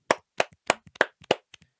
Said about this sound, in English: Can we get a round of applause for that hero here today?